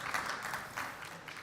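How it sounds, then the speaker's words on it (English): A brief burst of audience clapping at a stage at the Formnext trade show, November 2022, continuous and moderately loud throughout. "Big applause, please."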